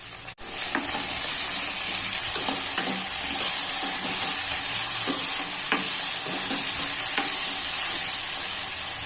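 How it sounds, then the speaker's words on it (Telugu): Onions and potatoes frying in a pan with mustard seeds and cumin sizzle loudly and steadily, close by, with occasional scrapes and pops of stirring throughout. "ఆనియన్స్ అండ్ పొటాటోస్ ఫ్రై అయిపోయాయి."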